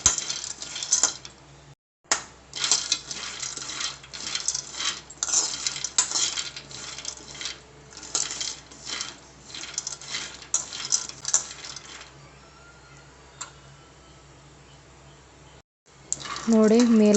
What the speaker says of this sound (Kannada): ಶೇಂಗಾನ ಮೇಲೆ ಕಪ್ಪಾಗೋ ರೀತಿ ಹುರ್ಕೊಳ್ಳಿ